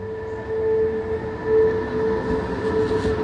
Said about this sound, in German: jetzt ist mir der Zug abgefahren